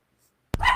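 After half a second of near silence, a small Bichon Frise dog lets out one sharp, close bark with a short yappy tail.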